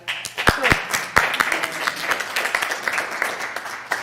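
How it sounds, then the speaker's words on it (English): Applause at an annual general meeting, a few sharp, close hand claps at first followed by a modest group clapping steadily, with brief voices underneath. "I'll clap for that."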